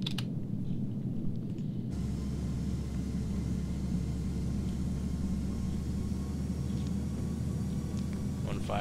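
Landing gear lowering on an airliner in Flight Simulator X during final approach: a steady engine rumble fills the cabin, then a sudden deeper, louder roar kicks in as the gear comes down and holds for the rest of the clip.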